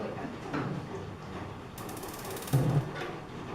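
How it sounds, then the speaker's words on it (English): A kitchen stove knob being turned on before sautéing spinach: quiet clicking and ratcheting, with a brief sharper click-and-whoosh near the end, close and isolated with no talking. "the first thing I'm going to do is get my stove on"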